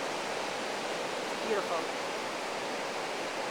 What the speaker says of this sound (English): The sun is setting on Pismo Beach. Gorgeous, beautiful. The waves are high.